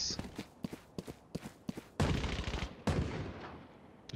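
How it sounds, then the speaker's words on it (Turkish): Rapid bursts of Bulldog rifle fire in Valorant, sharp repeated shots in quick groups, with heavier overlapping gunfire and impacts building in the second half. "Ona şimdi bulldog alıp vuruyorum."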